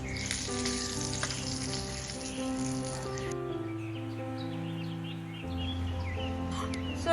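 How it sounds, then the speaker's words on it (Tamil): A steady sizzle and scraping hiss from a pan as gram flour is stirred and roasted for payasam, with faint chirps in the background and no talking. "நம்ம கடலை மாவு எடுத்து நம்ம வறுத்துக்கலாம்"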